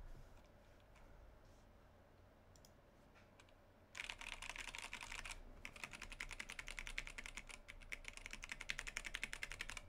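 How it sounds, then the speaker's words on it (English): Typing on a Jupiter 75 Bluetooth USB-C keyboard with a reverberant ring: quiet isolated clicks at first, then a dense, steady run of crisp keystrokes close to the microphone. "as you're typing, you could hear it reverberating"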